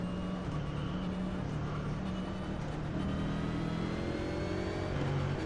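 A NASCAR Next Gen race car engine at Richmond in a racing video game drones steadily at racing speed for several seconds, a continuous mid-pitched roar with slight rises in revs and no talk.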